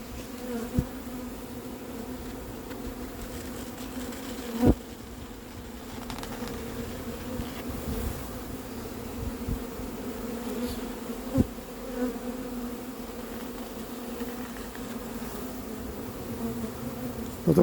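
Honeybee swarm being hived in Crosne, a dense steady buzzing drone from many bees close by, with a few sharp knocks and thumps breaking through the hum.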